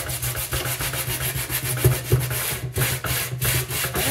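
Wet sanding of a car headlight lens with a restoration kit: steady back-and-forth abrasive rubbing, close and continuous, with no talking.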